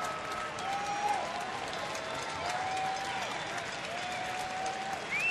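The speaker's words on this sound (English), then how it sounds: "So Jackson gets a well-deserved round of applause." Baseball crowd at a Texas at Oakland game applauding Connor Jackson's sensational catch on a sacrifice fly, a steady wash of clapping and cheering from the stands with whistles cutting through, carried under by faint crowd noise throughout.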